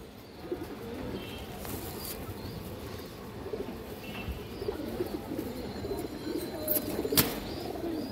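Pigeons at a pigeon farm coo softly and steadily, with occasional chirps and a brief flutter of wings, under a low background hum.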